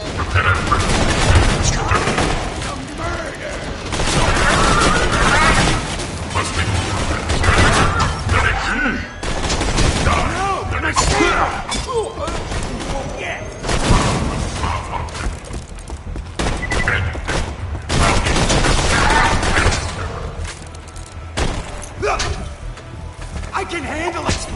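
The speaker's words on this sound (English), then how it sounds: "I can handle explosions!" Rapid bursts of gunfire and booming explosions from the video game Borderlands 2, loud and dense throughout with brief lulls, with voices talking over the action.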